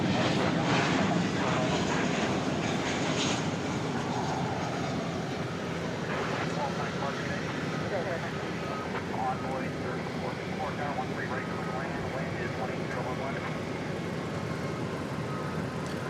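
A Boeing 737-800 jet airliner arriving at night from Omaha, Nebraska, its engine roar steady and fairly distant, someone talking over it throughout.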